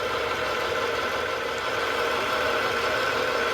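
A CNC mill spindle turning at its top low-gear speed of about 1550 RPM with a Big Daishowa high-speed increaser fitted, giving a steady, continuous machine hum and whine that holds evenly throughout with no talking.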